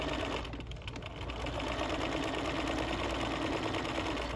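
Sewing machine running steadily while stitching binding onto a quilt, a close, continuous mechanical whir that holds an even pace throughout, with no talking.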